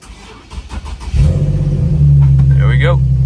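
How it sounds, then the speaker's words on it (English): A jump-started car cranks and catches after some faint handling noises, then settles into a loud, steady idle close by, with a brief higher whirring near the end. "Let's see if the car turns on."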